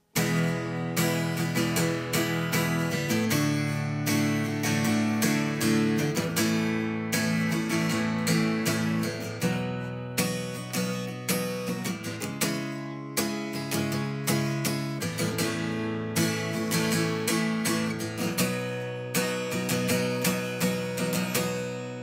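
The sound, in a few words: guitar strumming chords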